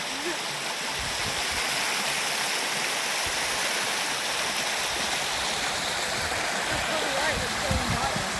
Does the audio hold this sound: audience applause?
no